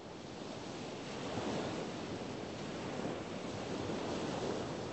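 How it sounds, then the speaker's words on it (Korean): Ocean waves wash steadily onto a shore, a continuous broadband surf roar with gentle swells in loudness and some wind, heard alone without voices. "시원한 파도 소리, 좋구만"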